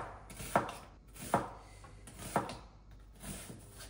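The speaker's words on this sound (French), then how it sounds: "On va couper l'oignon et les champignons" Knife chopping onion and mushrooms on a board, three distinct blade strikes at an even pace then a softer fourth, close and moderately loud, with no talking.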